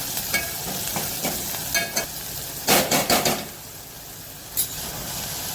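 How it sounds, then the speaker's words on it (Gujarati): Onions, garlic and chillies sautéing in a pan for mag masala, a steady close sizzle under a run of scraping stirs, with a brief flurry of clattering strokes midway and one more later. "આપણે એકવાર હલાવીને સાતળવા દઈશું"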